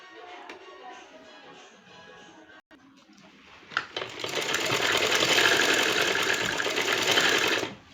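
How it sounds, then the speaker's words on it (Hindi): After a quiet start, a sewing machine runs steadily for the last few seconds, stitching strips onto a sleeve with a close, even whirring drone. "पट्टियाँ यहाँ पे रख के एंड स्टिचिंग करें।"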